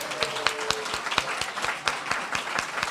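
Sparse applause at a Cleveland Chamber Choir cabaret night at the Bop Stop, a handful of distinct, fairly close claps in an uneven rhythm over a soft room background.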